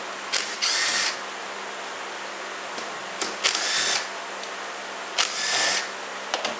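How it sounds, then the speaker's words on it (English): Short bursts from an impact wrench spinning out bolts on a Chrysler 42LE (A606) transmission during a teardown, three separate zips spaced a couple of seconds apart, close and fairly loud with a low hum between them. "Get the impact instead of screwdriver."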